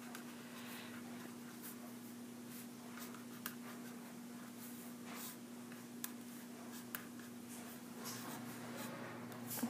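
Pen strokes as a logic diagram is drawn by hand, a faint, steady scratching with brief ticks over a low constant hum.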